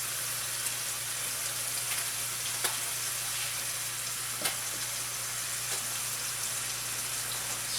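Onion spits and sizzles steadily in a hot frying pan, a continuous crackle with scattered sharp pops, close and alone with no talking.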